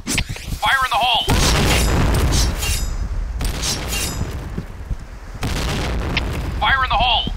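Grenade blasts in the game Point Blank (Garena), several loud booming explosions with rumbling tails in quick succession, close and heavy, with short radio-style voice callouts between them.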